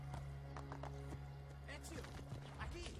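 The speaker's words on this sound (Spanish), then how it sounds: "El caballo se me ha vuelto loco, espera un segundo." Horse hooves clip-clop steadily in Assassin's Creed 2 as a horse runs, the close, rapid thuds mixed with game sounds and a low steady hum, with a whinny-like cry and voices in the background.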